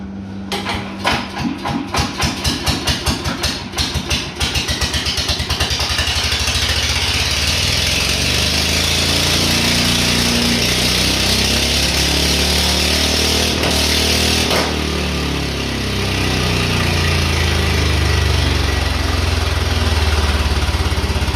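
A generator engine fitted to a dune buggy with a car gearbox cranks with rapid pulsing beats, catches, and settles into a loud, steady, close running drone for the rest of the stretch, with no voices.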